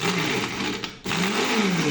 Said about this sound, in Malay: Korang masukkan air, lepas tu kisar macam biasa.